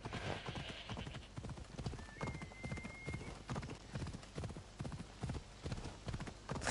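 Horse hooves clip-clopping at a steady trot in Assassin's Creed Odyssey, a continuous rhythmic beat of close, fairly loud hoof strikes with a brief whinny early on.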